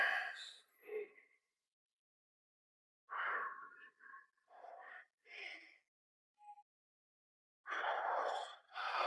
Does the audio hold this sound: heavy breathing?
yes